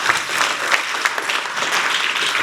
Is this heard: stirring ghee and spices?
no